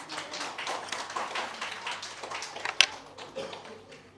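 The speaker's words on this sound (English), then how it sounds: "Let's welcome our principal ma'am with a big round of applause." An audience at a school orientation day applauds to welcome the principal. The clapping is light and scattered, with one sharp louder clap partway through.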